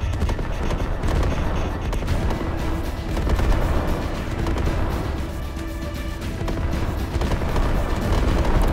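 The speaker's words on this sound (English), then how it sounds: "those are mortars coming in on the enemy position" Mortar shells strike an enemy position in the military shooter Squad, a continuous barrage of heavy booms and rumbling impacts layered with scattered gunfire, loud and dense throughout.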